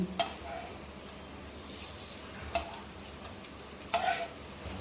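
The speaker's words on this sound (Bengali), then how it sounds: "সকাল সকাল দেখি কি রান্না হচ্ছে। ও পেঁয়াজি" Onion fritters (piyaji) frying in a pan, giving a steady soft hiss and crackle of hot oil, with a few sharper clinks or stirs near the start, middle and end; no voices.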